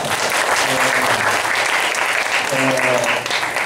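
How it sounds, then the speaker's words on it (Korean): A church Bible-recitation group gives loud, sustained welcoming applause for newcomers, with voices mixed in under the clapping. "우리 환영의 박수 좀 한번 치자"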